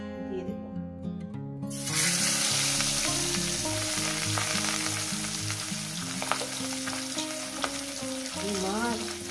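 Pieces of catla fish drop into hot oil and burst into a loud, continuous sizzle that fills the rest of the clip, with faint sounds of a person near the end.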